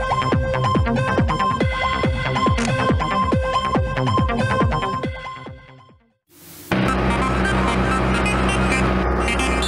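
Car engine in the racing video game Need for Speed 3, a repeated rising rev pattern with gear-shift drops, then a brief silence before a dense, steady engine and game sound resumes loudly.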